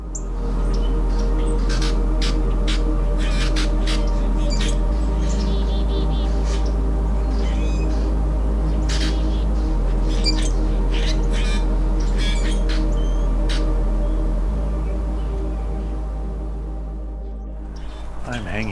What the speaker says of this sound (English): I'm hanging out with a bunch of grackles, American robin, and myrtle warbler, also known yellow rump warbler